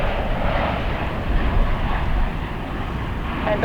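An airliner takes off from runway 4 Left at JFK airport, its engines a steady, broad roar held at a constant level through the whole stretch, heard from a distance.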